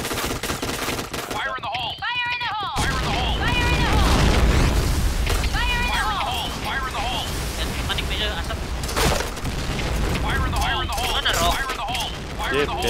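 Booming grenade blasts mixed with rapid machine-gun fire in a shooter game, loud and dense throughout, with players talking over the chaotic combat.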